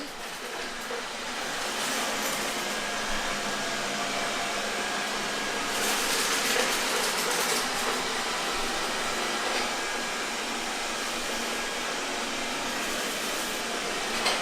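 A Xiaomi Roborock S50 robot vacuum cleaner runs over a dirty floor scattered with small pebbles, giving a steady, fairly loud motor whir and hiss with brief swells of louder suction noise and no talking.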